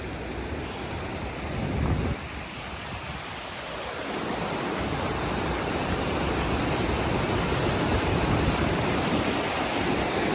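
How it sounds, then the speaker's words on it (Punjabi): Steady roaring rush of falling water, loud and continuous, filling the whole clip with broadband noise and no voices. "ਦੇਖ ਲਓ ਝਰਨਾ"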